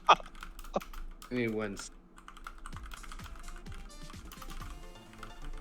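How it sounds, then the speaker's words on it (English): Rapid clicking of keys on a computer keyboard, moderately close, in uneven bursts while people talk briefly over it. "you're typing"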